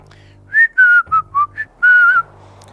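A person whistles a short tune: six clear, bright notes in quick succession with brief gaps, the last held longer, close and loud against a faint low hum.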